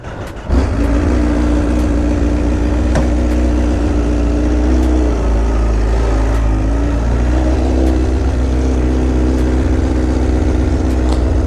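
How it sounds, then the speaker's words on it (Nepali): A Royal Enfield Bullet motorcycle engine starts and settles into a loud, steady, close idle thump that carries on throughout with no talk. "स्टार्ट भयो बुलेट स्टार्ट भयो"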